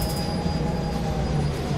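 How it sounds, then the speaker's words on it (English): Train carriages in Train Sim World 2020 creak and grind as they roll, a constant close rumble carrying thin sustained squealing tones with no pauses. "The sounds of the train and everything as it goes, and you can hear it sort of just creaking"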